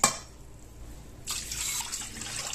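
Water from a tap runs into a glass being filled for ragi mudde; a few faint drips come first, then a steady splashing stream starts partway through and continues to the end.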